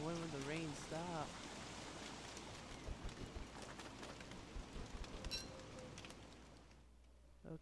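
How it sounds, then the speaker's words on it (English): Steady rain in the video game Don't Starve hisses softly and evenly throughout, with faint drops and some birdlike chirps early on, all at low volume. "When will the rain stop?"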